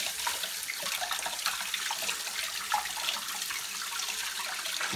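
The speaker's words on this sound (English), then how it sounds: "That's how you wash your hand effectively." Hands being washed under a running tap: a steady, close hiss of water splashing in a sink, continuous and even throughout, with no voices.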